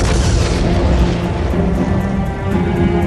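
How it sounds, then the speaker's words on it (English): A loud, rumbling explosion from the R-101 airship crash roars with dense, sustained low-frequency thunder that barely lets up across the whole span. "The explosion swept through the R-101, killing 48 men, including Lord Thompson"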